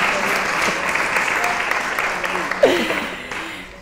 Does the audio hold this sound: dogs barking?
no